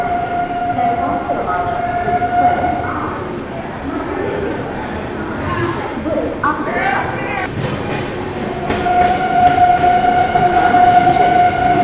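Gitanjali Superfast Express from Howrah to Mumbai rushing along at high speed, a loud sustained rumble and rattle of wheels with a long horn-like tone sounding intermittently, and someone talking at times.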